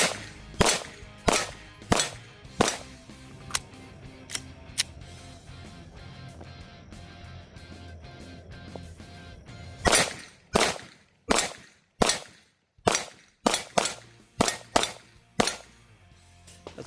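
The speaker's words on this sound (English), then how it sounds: "Let's do some moving transition shots and see how that looks also." Glock 48 MOS pistol fitted with a magwell fires in quick pairs and strings of sharp, loud reports during moving transition drills, with a quieter stretch in the middle and a rapid run of shots near the end.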